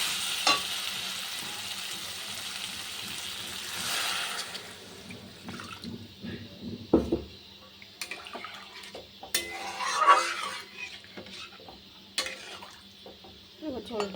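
Water poured into a pan of fried spice mixture while cooking a curry, with a hissing sizzle at first, then quieter stirring, spoon scrapes and clinks against the pan.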